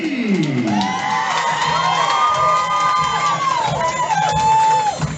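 A large local crowd at a live MMA event in an indoor venue cheers and whoops loudly for a fighter, with sustained shouting and high whistling voices continuing throughout.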